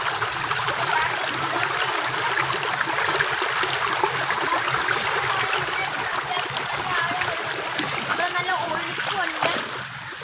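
Water rushing steadily along a stream in the monsoon season, a continuous loud splashing wash that fills the whole clip with no pauses.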